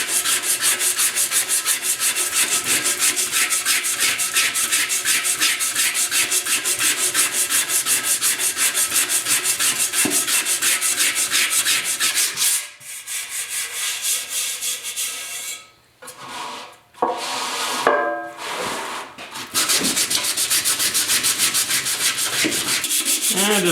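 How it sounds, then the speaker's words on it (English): A 1972 Ford air cleaner is hand-sanded with 150 grit sandpaper, producing a dense, continuous raspy scrubbing close up, with short pauses and lighter strokes near the end before the rubbing resumes. "just a little light shot with some 150 grit. That's just to get rid of the 80 grit scratches"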